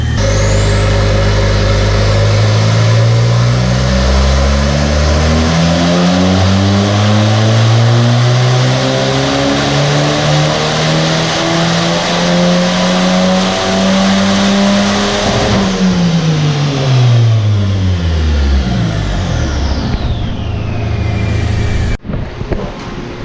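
Turbocharged car engine on a dyno pull at about 15 psi boost, revving loud and climbing steadily in pitch for around fifteen seconds, then falling away as it winds down, ending with a sharp click.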